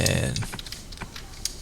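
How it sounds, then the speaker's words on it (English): Keys clack on a computer keyboard while a line of console code is entered, a quick uneven run of close, crisp taps after a brief muffled rustle at the start. "I'm going to type in console.writeLine"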